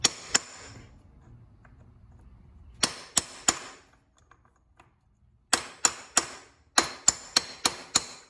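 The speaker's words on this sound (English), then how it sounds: "take your 36 millimeter socket, put it over the nut, and just tap it until the lock washer is flat" A 36 mm socket is tapped over a nut to flatten a lock washer on a 2020 Raptor 700R SE ATV, giving sharp metallic clinks in short bursts of two to five quick taps separated by pauses.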